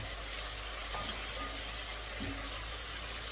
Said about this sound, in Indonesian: Kita tumis lagi sampai dia harum.